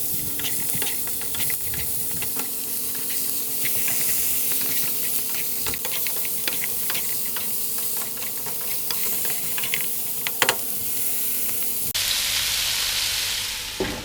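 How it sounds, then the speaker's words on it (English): Browned meat and freshly added vegetables stir-fry for chow mein over medium heat, giving a continuous close sizzle and hiss with scattered crackles throughout and no talking. "So now you want to add your vegetables."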